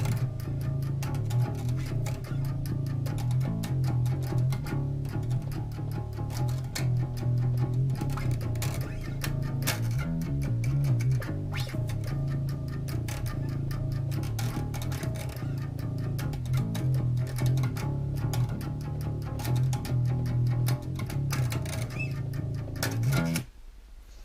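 Bass guitar playing a verse slowly with hammer-ons and pull-offs, a continuous run of low, distorted plucked notes with a steady rhythm, heard alone until it stops near the end.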